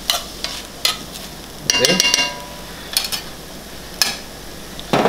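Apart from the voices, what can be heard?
stirring sweet potato gnocchi with bolognese in a hot pan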